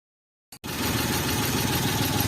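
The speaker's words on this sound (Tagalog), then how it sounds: "At muli ngang umandar na yung aking makina." A Suzuki F6A 12-valve engine in a multicab, just after a cylinder head gasket repair, starts up: silence, a brief cranking burst, then the engine catches and runs at a steady, close, rumbling idle with no talking.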